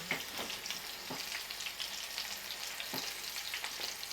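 Fish frying in a pan under a shower cap cover, a steady close sizzle with occasional sharper crackles and pops, no talking.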